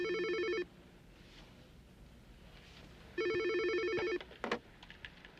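An office telephone rings twice in a warbling electronic double trill, each burst loud and near with a quiet pause between, followed by a brief clatter.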